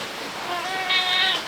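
A cat gives a drawn-out, wavering meow that rises in pitch near the end, heard close over a background hiss.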